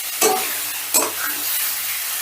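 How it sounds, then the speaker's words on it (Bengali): Fried potatoes are stirred into sizzling masala in a pan for an egg-fritter curry, with a steady close sizzle and two sharper scraping stirs of a spatula. "এবার আলুটাও মশলার সাথে একটু মিশিয়ে নেব।"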